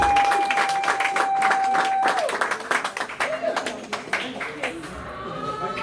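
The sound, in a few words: audience applause for Banjoun Foundation USA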